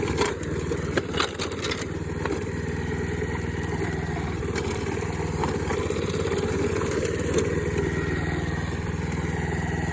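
A lawn mower fitted with a cable in place of a blade runs steadily up close as it chews over firewood chunks and a log, with scraping, crunching bursts riding on the engine.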